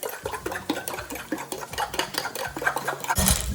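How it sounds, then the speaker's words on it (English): Six large eggs being whisked in a bowl for a quiche filling, a rapid, rhythmic scraping and tapping that runs without pause for a few seconds, close and clear. "I'm going to make the egg filling with 6 large eggs first. Just whisk this."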